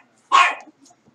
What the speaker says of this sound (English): that dog.